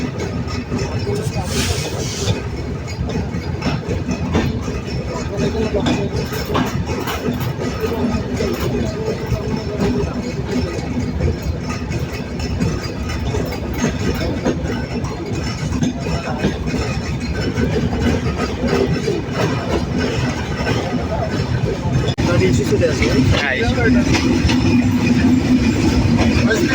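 The Sundarban Express rolls on at midnight after leaving Faridpur station, a steady loud rumble and rattle of carriages with clickety-clack wheel noise from inside the train, with a brief spoken word at the start.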